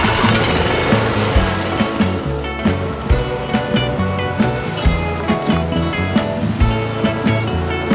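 A small lawn mower engine sputters and chugs to life, rough repeating pulses of a motor turning over, loud and close with no voices.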